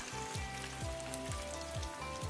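Chicken marinated in fermented bean curd deep-fries in oil over medium heat while being turned, giving a steady close sizzle with a soft low swish recurring about twice a second.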